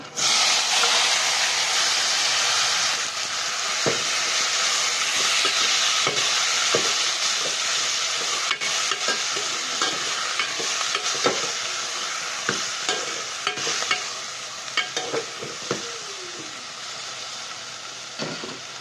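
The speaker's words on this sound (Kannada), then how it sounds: "ಈಗ ಕಟ್ ಮಾಡ್ಕೊಂಡಿರೋ ಟೊಮೊಟೊ ಹಾಕೋಣ" Chopped tomatoes go into a hot pan for tomato rasam, setting off a loud, steady sizzle that slowly fades while sharp scraping and clinking stir strokes sound up close, growing more frequent toward the end.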